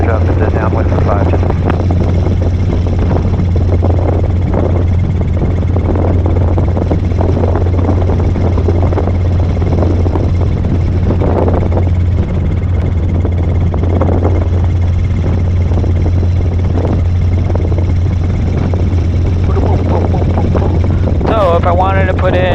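Robinson R22 helicopter in flight during a training lesson, its engine and rotor making a steady, loud, unbroken drone with a strong low hum throughout, while an instructor talks over it.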